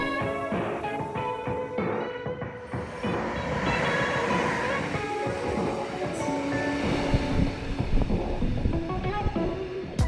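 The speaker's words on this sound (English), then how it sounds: "I think we just got overtaken by a freight train." A freight train overtakes on the adjacent rails beside a moving sleeper train between Berlin and Paris, a dense continuous rumble of wheels with rhythmic clatter and occasional squeals, loud and close, with no talk.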